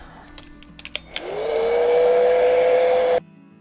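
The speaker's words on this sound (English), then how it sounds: "So I'm going to quickly dry this." A hair dryer quickly dries wet paint on a Christmas-in-Paris painting. It starts with a rising whine, then blows as a steady close hum for about two seconds before cutting off, after a few light taps.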